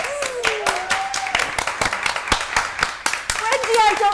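Audience clapping at a live music show in a venue, sharp individual claps scattered over background chatter and a brief voice, with whoops and cheers rising toward the end.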